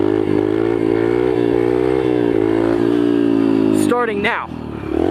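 A pit bike engine roars loud and close in a sustained high rev while wheelieing up a street, then abruptly cuts and rises again, with a brief spoken voice.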